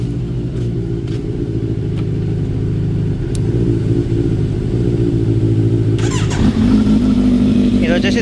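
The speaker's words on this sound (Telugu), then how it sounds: "అట్లనే ఒకసారి మన Z9 కూడా స్టార్ట్ చేద్దాం." A Kawasaki Z900 motorcycle engine running at a steady low idle rumble throughout, with a sharper change near the end as it starts; someone talks over it.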